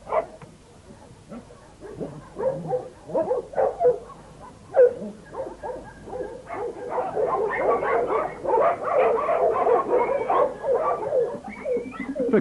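Several dogs on a dog farm bark, yip and whimper at feeding time, sparse yelps at first building into a loud, continuous chorus of overlapping barks close by.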